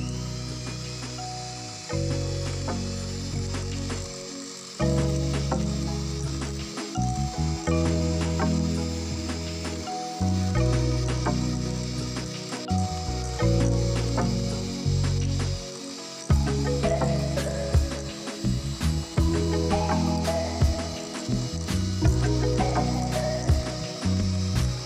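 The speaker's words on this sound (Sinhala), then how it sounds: "දැන් අපි බිත්තර එක බකින් දාගෙන හොඳට බීට් කරගත්තා" An electric mixer beats eggs into a butter and sugar mixture for a butter cake. It gives a loud, continuous whirring drone that shifts in pitch and pauses briefly now and then as the eggs are added.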